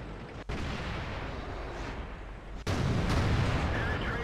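Tank cannon fire in the World of Tanks video game, a KV-1S in a platoon shooting at a distant enemy tank, with sharp booming shots loud over a dense, continuous battle rumble.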